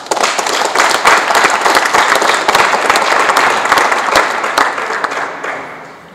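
Audience applause welcoming a guest speaker, Congolese movement president, at a press event; dense, steady clapping from a sizable crowd, loud and close, tapering slightly at the end.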